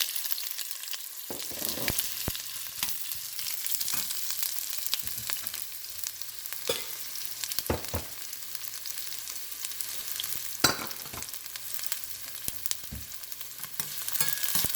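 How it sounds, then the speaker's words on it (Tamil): Onions frying in a pan with a little salt, cooking down until golden for a tiny prawn sambol, a steady close sizzle with scattered clicks and stirring scrapes throughout, no voices. "வெங்காயத்தை பறிப்போம்"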